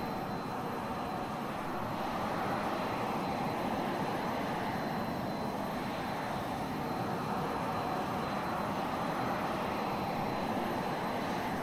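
Simulated AV-8B Harrier jet engine in flight in X-Plane 11 near Naval Air Station Patuxent River, a constant dense engine roar with no breaks, steady and fairly loud.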